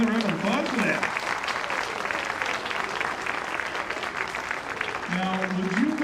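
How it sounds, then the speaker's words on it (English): An audience at a junior high school winter band concert claps in a sustained, even round of applause, with brief sung or spoken voice fragments near the start and end. "How about another round of applause for that?"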